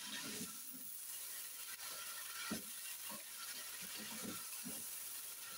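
Tender pressure-cooked mutton frying in a pan for curry, a constant broad hiss with soft irregular stirring knocks underneath, close and steady, no talking.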